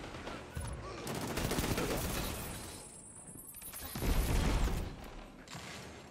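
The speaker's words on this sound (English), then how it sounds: "Damn grenades!" Grenade blasts and gunfire in the video game Destiny 2: a muffled, fairly quiet barrage of shots with two heavier booming swells, the explosions rumbling low beneath the crackle.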